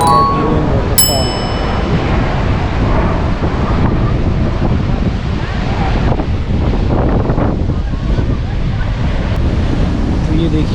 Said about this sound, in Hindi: ये है ड्यूडिन वाटरफॉल।